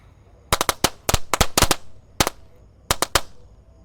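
Firecracker 'tank' fireworks going off at night during Ramadan, a rapid crackling string of sharp loud bangs in irregular clusters, close and unaccompanied by talk.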